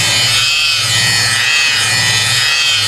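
A rotary polisher correcting car paint runs loud and close with a steady whirring drone that swells and eases in gentle pulses as the pad moves over the panel, with no talk.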